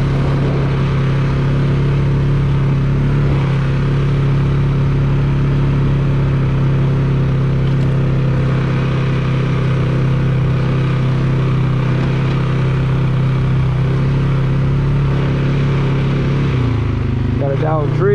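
An ATV riding an off-road trail through woods on the Tomahawk Trail near Indian River, Michigan, its mid-pitched engine droning steadily and close, with a brief rev change near the end.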